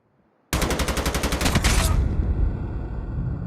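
Rapid automatic gunfire in a video game erupts suddenly and loud, a fast rhythmic burst of shots followed by a sustained rumbling wash of further firing.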